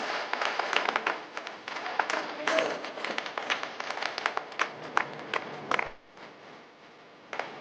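A crowd at a school alumni reunion in Vinchur claps loudly to honour their former teachers, with a dense, continuous patter of applause that mixes with voices and then drops off abruptly near the end.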